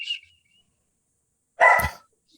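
A dog barks once, loud and close, in an indoor room during a podcast conversation, after a brief faint chirp and a stretch of silence.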